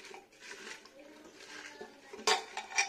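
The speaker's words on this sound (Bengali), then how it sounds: "মিক্স আপ করে দিই ভালো করে, লবণ আর হলুদ আর জল" Salt, turmeric and water being mixed in a pot: soft scraping swirls of a spoon, then a couple of sharper metallic clinks against the pot near the end, close and fairly quiet.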